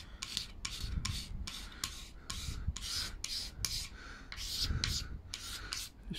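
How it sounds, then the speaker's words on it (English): A razor blade scrapes repeatedly along a painted window board, rasping strokes in a steady back-and-forth rhythm, close and fairly loud, with no talking. "what I'm doing is going over with a razor"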